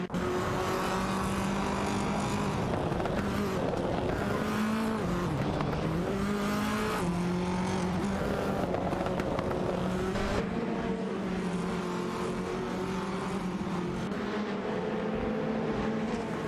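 Touring cars, including an Alfa Romeo Giulietta TCR and a Lada Vesta, race in a video game, engines droning and revving continuously with shifting pitch as they battle closely, loud and sustained.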